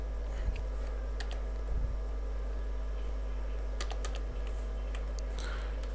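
Keys on a computer keyboard are pressed for a copy shortcut, giving a few light, close taps in small bursts over a steady hum.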